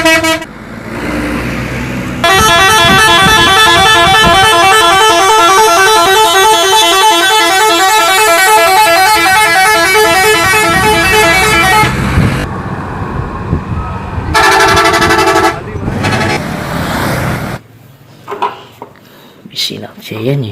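A loud Budiman bus horn blares in long sustained blasts with a melodic, multi-tone musical pattern, followed by shorter honks and traffic rumble.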